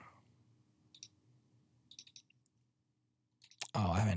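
Computer mouse clicks while working in World Creator 2021 terrain software: a few sharp, isolated clicks spaced over several seconds, fairly faint, followed by a sudden burst of loud broadband noise at the end.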